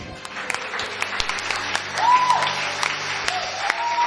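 Worshippers in a church applaud and cheer for Jesus, a loud, steady wash of clapping from a crowd with scattered sharper claps and a brief raised voice or whistle-like tone rising above the applause.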